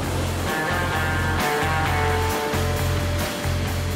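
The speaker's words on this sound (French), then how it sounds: "C'est un genre de rodéo sur les déferlantes au beau milieu de la mer d'Iroise" Rough Atlantic seas in the Iroise Sea surge and break around a boat, with a throbbing, pulsing engine drone running loudly beneath the washing waves.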